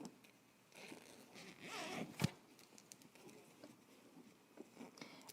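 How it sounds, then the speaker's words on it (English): A zipper on a sewn Simplicity 9370 dress is drawn open, a faint, brief rasp up close, surrounded by soft fabric rustling and handling noises in a quiet room. "now we can go ahead and open up your zipper"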